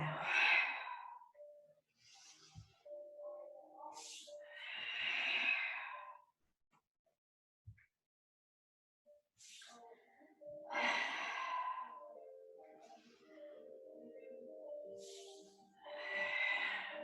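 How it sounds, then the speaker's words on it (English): Deep yoga breathing, slow audible inhales and long hissing exhales in a repeating rhythm, close and soft, with a quiet gap between breaths. "Inhale and exhale."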